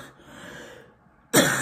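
A single sharp cough bursts out loudly near the end, after a stretch of quiet breathing and faint room noise.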